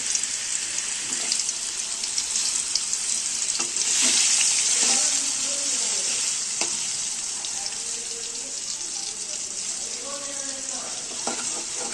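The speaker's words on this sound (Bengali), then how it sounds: "মুরগিটাকে ভেজে নেব।" Steady crackling sizzle of spice-coated chicken frying in a pan, loud and close, with occasional stirring clatter and a brief hiss of running water.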